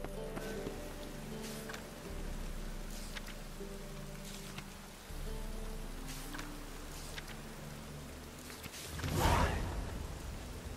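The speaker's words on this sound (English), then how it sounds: "Looks like rain." Rain in the video game The Witcher 3 patters as a faint, steady hiss over soft, low background music, with a brief swelling whoosh near the end.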